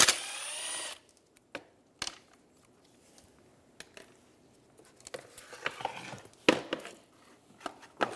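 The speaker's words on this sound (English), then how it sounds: "Using a Phillips head, we're going to remove the 3 screws holding the motor to the fan shroud." A Phillips screwdriver backs three screws out of the radiator fan motor on a 2003-2007 Infiniti G35, with scattered close metallic taps and clicks and brief rattles against a quiet garage background.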